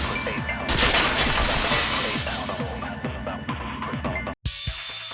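A vase shatters in the video game Danganronpa 2, a loud sustained crash of breaking ceramic and scattering shards that runs for several seconds, with a brief cut of silence and a second burst at the end.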